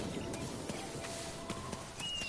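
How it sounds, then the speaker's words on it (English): Hooves of a horse ridden in Dynasty Warriors 9 clatter in a quick, steady clip-clop under dense game sound, the gallop fairly close and moderately loud. "we press L2, we get a horse."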